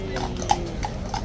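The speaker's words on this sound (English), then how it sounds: "Oh, the horse is being taken off." A few hoof clops at a slow walking rhythm, soft and somewhat distant over a low background rumble.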